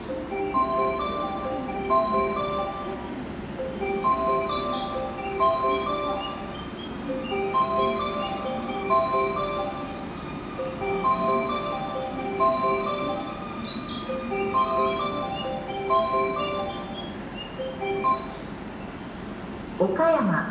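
At Okayama Station platform 6, the train approach melody plays as bright repeating chimes over a constant station hum, with a station announcement voice running underneath.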